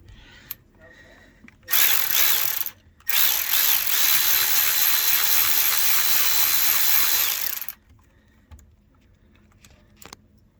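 A ratchet loosens bolts on a Westerbeke W13 4.4 kW generator, heard as two loud, sustained bursts of rapid clicking, a short one and then a long one, with faint handling noises around them.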